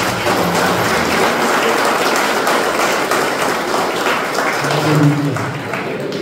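Continuous broadband clapping from a church congregation at a healing prayer service, steady and moderately loud throughout, with faint voices mixed in beneath the applause.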